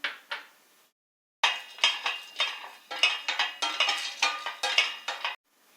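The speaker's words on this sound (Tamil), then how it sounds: "இருந்தாலும் நம்ம ஒரு தடவை வறுத்து எடுத்துடலாம்." Peanuts are dry roasted in a pan, producing bursts of close rattling and scraping as they are stirred, with a brief silent pause near the start and no voices.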